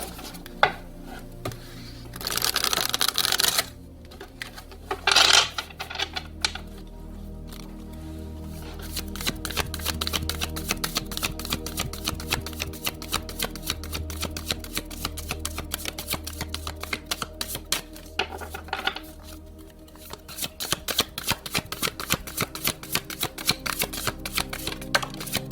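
Tarot cards shuffled continuously up close, with a dense, steady papery riffling and clattering that swells in brief louder bursts, with no voices.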